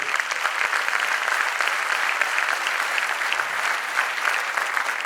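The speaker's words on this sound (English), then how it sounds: "Audience, can we applaud them?" An audience applauds debaters at a debate competition, a dense, steady round of clapping from many hands that holds evenly for several seconds with no talk over it.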